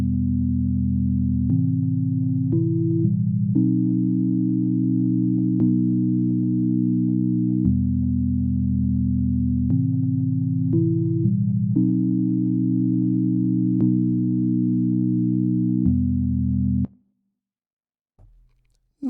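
Sustained synth chords built from MIDI notes for a multi-voicer patch, a slow progression of held harmonies changing every couple of seconds, steady and loud, stopping abruptly near the end with silence and a click.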